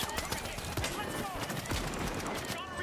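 Rapid gunfire in the video game The Finals, sharp broadband bursts firing in quick succession with a dense, busy combat backdrop throughout.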